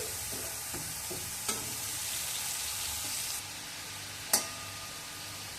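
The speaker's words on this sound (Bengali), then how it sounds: "আদাটা একটু ভেজে নিয়ে সামান্য জিরে হলুদ লাল লঙ্কার গুঁড়ো জলে গুলে দিয়ে দিয়েছি" Ginger paste with cumin, turmeric and red chilli powder frying in a pan for a Bengali raw papaya dish, giving a steady close sizzle with a few sharp stirring clicks and one louder scrape near the end.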